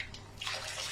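Boiling water pours into a pot of rice for a lamb akhni, a steady splashing rush that swells louder after a softer start and carries on to the end, close by and without talk.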